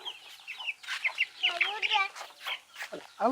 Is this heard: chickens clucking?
yes